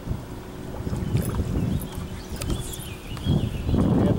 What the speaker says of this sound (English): Yeah, the wind picked up.